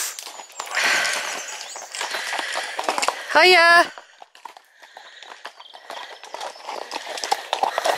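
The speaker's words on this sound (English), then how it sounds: "There's some horses going by now." Horses passing along a track on a rural walk between Winscombe and Cheddar, with hoof clip-clops close by, a whinny in the middle and people talking nearby.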